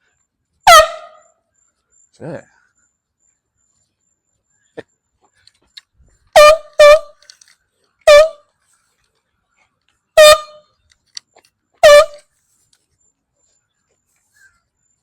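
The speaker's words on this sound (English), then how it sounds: "It's not like I got an air horn or anything." Loud, close air horn blasts sounding out in a park, one early single blast then a run of repeated short honks in irregular rhythm, with a brief muttered voice and quiet gaps between.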